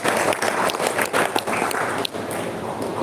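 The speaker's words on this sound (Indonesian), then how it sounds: "Boleh tepuk tangan untuk BPK." Audience applause at a dulmuluk theatre performance and workshop in Gedung Kesenian Palembang, with dense, steady clapping from a crowd filling the room, sustained throughout without letting up.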